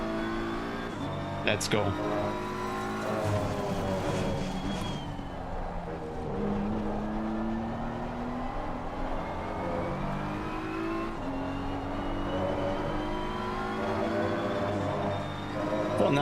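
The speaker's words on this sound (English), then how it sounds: "There's a car leaving the pit lane, watch out." A race car in a racing video game at Misano pulls out of the pit lane, its engine revving and rising in pitch with harsh harmonics, while a voice talks over the engine.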